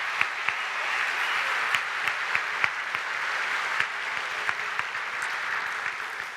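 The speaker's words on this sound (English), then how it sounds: "please vote by applause." A church synod assembly applauds steadily to vote in favor of a council slate, a sustained wash of clapping from a large crowd with scattered sharper individual claps standing out, no talking.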